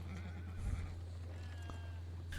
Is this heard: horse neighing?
yes